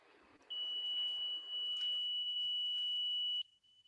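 A steady, constant electronic beep tone, like an alarm, sounds alone for about three seconds for a Doppler-effect demonstration, holding one unchanging pitch before cutting off, over faint background hiss.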